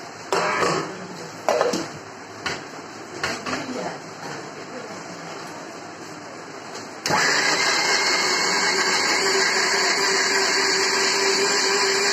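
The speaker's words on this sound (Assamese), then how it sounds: "এতিয়া এইবোৰ গ্ৰাইণ্ডাৰত দি কিনে পূৰা পেষ্ট বনাই ল'ম।" An electric grinder loaded with chopped pineapple kicks on after a few handling knocks and clicks, then runs in a loud, steady, high motor whine for several seconds, close by.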